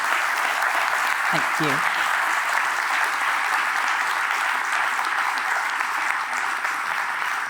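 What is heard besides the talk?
audience applause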